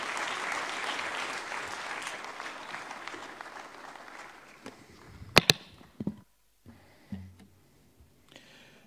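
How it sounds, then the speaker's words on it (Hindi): An audience at an Indian government science event applauds a Union Minister, the clapping fading out after a few seconds into a quiet room with scattered sharp knocks and thumps. "माननीय डॉक्टर जितेंद्र सिंह जी के लिए आप सबसे तालियां निवेदित करता हूं।"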